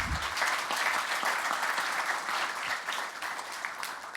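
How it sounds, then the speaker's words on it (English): Steady, full applause fills the room from an audience at a panel on generational transitions in African family businesses, an even wash of clapping with no pause and no talk over it. "We can give a big round of applause for our panelists."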